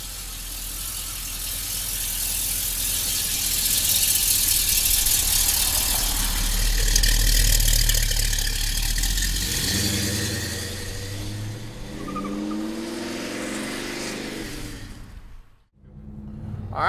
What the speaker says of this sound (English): Man, does the exhaust sound good on this baby. 427 power under the hood